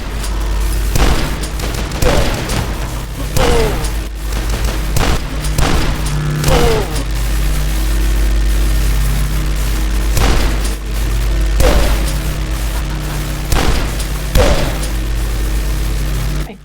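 Double shotguns fire in the video game Dusk, giving a series of heavy, booming blasts every second or two over a steady low drone.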